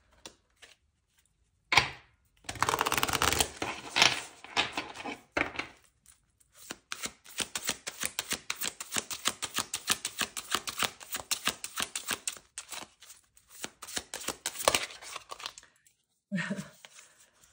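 A deck of affirmation cards being shuffled by hand, long rapid riffling and crackling bursts with short pauses between them, close and fairly loud, with no talking.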